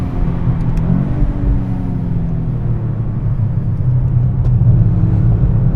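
A 2025 Toyota GR Yaris with an automatic gearbox runs hard on the Nürburgring Nordschleife, its engine a steady loud in-cabin drone with rising and falling revs and road rumble, no talking.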